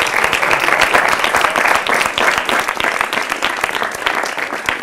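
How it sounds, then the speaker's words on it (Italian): Studio audience at an Italian youth talk show on integration and immigration gives sustained, dense applause, loud and steady throughout with no talk over it. "questa sera fatevi un applauso"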